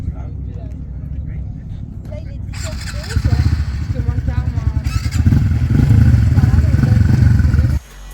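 Small Honda motorcycles lapping a race track, their engines droning steadily, then rising louder and rougher as they rev and accelerate, before cutting off abruptly near the end.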